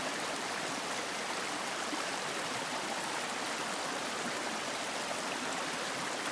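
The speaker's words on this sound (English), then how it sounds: "The babbling brook." A babbling brook flows along a trail, a steady, even rush of water that fills the whole stretch with no voices or other sounds over it.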